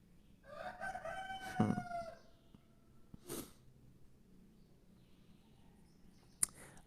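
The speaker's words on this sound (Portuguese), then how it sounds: "E o galo tá na sinfonia ali do lado." A rooster crows nearby in a tattoo studio setting, one full cock-a-doodle-doo near the start, followed by a couple of sharp short sounds and faint background hum.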